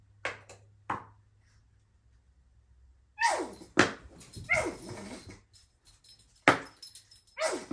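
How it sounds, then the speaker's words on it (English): A dog barks in short, sharp bursts, a couple of isolated yaps and then a more rapid volley, close by, agitated by noises from a glycerin bottle, with faint thumps in between. "if you hear a noise, it's my dog. He's not happy with the sounds that bottle was making"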